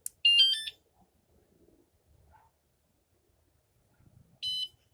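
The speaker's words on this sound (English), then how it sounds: "The second beep indicates that it is armed and ready." Wsdcam 113dB wireless motorcycle vibration alarm giving two short, bright electronic beep bursts as it arms, one at the start and one near the end, with near silence between.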